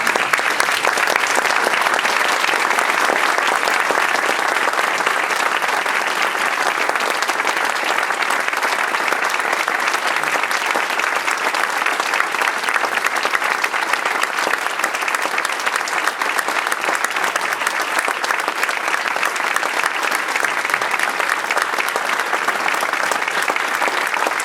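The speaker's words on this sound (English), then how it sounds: "Please stand and give a round of applause to Jack Middleton." A standing audience gives Jack Middleton a sustained round of applause at a formal ceremony with New Hampshire Supreme Court justices present, the dense clapping steady and loud throughout with no pause.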